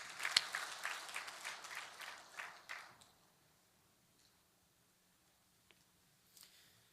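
Congregation claps in thanks to God at a New Year's Eve church service, a short burst of applause lasting about three seconds that quickly dies away into near silence, with a faint sound near the end.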